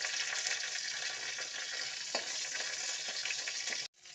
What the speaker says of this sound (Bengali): বেগুন ভাজা সেই তেলের মধ্যে কালো জিরে, শুকনো লঙ্কা আর কাঁচা লঙ্কা ফোড়ন দেব।